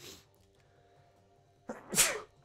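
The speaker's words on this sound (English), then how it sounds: "Oh, I'm gonna sneeze." After a faint quiet hum, a single loud sneeze erupts close by, a quick intake followed by a sharp burst that trails off.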